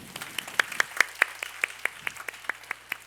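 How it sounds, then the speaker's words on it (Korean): During a middle-school church youth service, the congregation claps in a clear, evenly spaced rhythm, a dozen or so crisp claps ringing out one after another at a moderate level with little else beneath them. "우리 다시 한번 박수하겠습니다."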